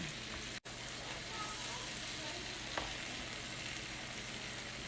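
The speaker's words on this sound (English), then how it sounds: "We're just gonna let this spinach cook all the way down." Spinach wilting down in a hot pan, a steady soft sizzle and crackle running evenly throughout at low volume, with one short dropout near the start and no one talking.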